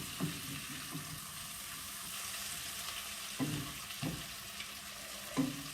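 Eggs and golden onion fry in a pan for an egg masala curry, a steady soft sizzle with a few clattering stirs and tosses of a utensil, fairly quiet and with no talk.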